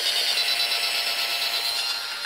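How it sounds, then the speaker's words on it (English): A power drill at its lowest speed spins a cleaning brush on a rod through the barrel of a pump-action shotgun, giving a steady, close, high-pitched whirring hum with no voices. "put this drill on the lowest speed, and while the brush is spinning, you push the rod in,"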